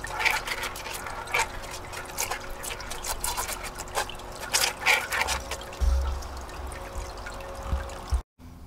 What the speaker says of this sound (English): I'll wash out the funnel.